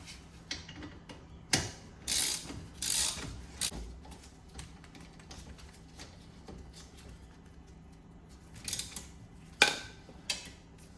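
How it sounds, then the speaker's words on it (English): A ratchet snugs up the brake disc bolts on a Porsche GT3 or GT4 Spyder with a few short bursts of clicking, close and fairly quiet, with pauses between and no voices. "Big bolts get torqued to 85 Newton meters, but first off, we'll snug them up."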